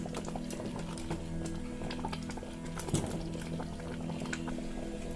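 Palm pulp and sugar boil thickly in a pot, a steady close bubbling and popping that continues throughout with a slightly louder burst near the middle.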